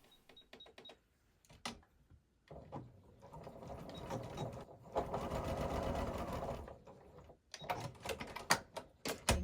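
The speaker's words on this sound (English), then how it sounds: "I'm now going to understitch right along the seam here on the pocket facing side" A sewing machine understitches along the seam of a trouser pocket facing, running in several bursts of rapid mechanical stitching, close and fairly quiet, with short pauses and clicks between runs.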